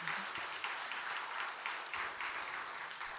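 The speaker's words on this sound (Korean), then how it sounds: "우리 강사님께 뜨거운 박수 감사드립니다" A church audience applauds steadily after a sermon, a dense wash of clapping that holds at an even level throughout.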